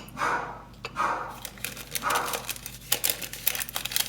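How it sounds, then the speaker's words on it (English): Dogs bark at someone passing by outdoors, a run of sharp, close barks in uneven bursts that overlap and crowd together, with some rustling in between. "that is Buzz and Lola barking at somebody passing by."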